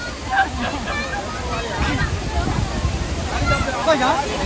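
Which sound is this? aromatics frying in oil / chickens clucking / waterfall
waterfall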